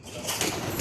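A soft pigeon coo, low and murmuring, close by against a faint outdoor background with no talking.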